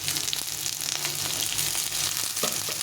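Radish frying in oil in a pan alongside already fried potato and eggplant for a mustard greens dish: a steady, close sizzle and crackle with faint stirring scrapes, no voices.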